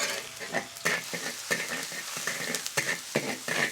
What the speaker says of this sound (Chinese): 锅里底油、葱姜蒜儿爆香